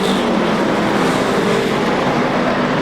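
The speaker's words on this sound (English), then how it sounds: "This week looking to better it by 1 as he works the outside of Linwood Cowen." Stock cars in a Sportsman feature race at Seekonk Speedway, 1998, their engines roaring as one continuous loud, steady drone with no talk over it.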